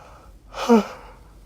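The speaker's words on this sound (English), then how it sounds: "I always yawn so much when I do these" A single voiced yawn from someone indoors, rising out of quiet room tone into a brief, breathy, drawn-out groan that peaks and then fades away.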